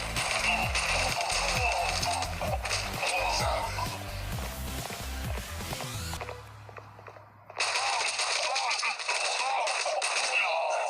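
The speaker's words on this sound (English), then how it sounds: "I do kill them with the bomb and gunshots too" Rapid bursts of gunfire in the shooter game Guns of Boom over a busy background of game sounds, with a short lull before the shooting and clatter resume.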